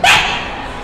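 A voice actor imitates a cartoon dog with a single loud, sharp bark close to the microphone that fades quickly into room tone.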